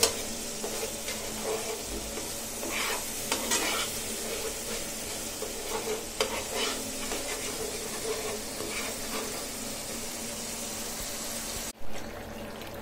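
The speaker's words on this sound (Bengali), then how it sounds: "আগে মশলাটা কষে যাক" Spice paste frying and sizzling steadily in a pan, stirred with a utensil that scrapes and taps at intervals, kept up close with no talking, before fish and tomato go in.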